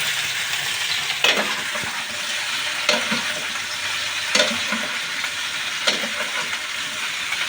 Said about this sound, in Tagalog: Luto ng gulay.